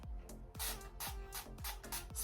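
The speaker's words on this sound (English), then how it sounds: "I'm going to spray some Dawn wash on the outside of both the dryer and the washing machine" Dawn cleaner sprayed onto the outside of a dryer and washing machine from a trigger bottle, about eight quick sharp hissing squirts in a steady rhythm, close and fairly loud.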